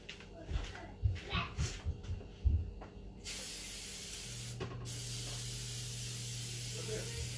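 Broadband hiss of an aerosol cooking spray onto a baking pan, a short burst and then a long steady spray lasting several seconds, preceded by some handling knocks and low voices.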